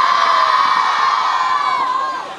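A crowd of children shouts loudly and continuously at an outdoor Día de Reyes celebration in Juchique de Ferrer, a sustained high-pitched roar that fades slightly at the end.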